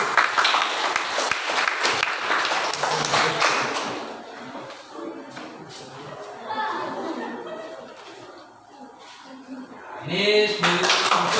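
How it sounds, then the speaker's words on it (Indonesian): A classroom group claps for group 3 receiving an award. The dense applause lasts a few seconds, then thins into chatter, voices and light clinks as people settle. "Tepuk tangan untuk kelompok 3 dulu."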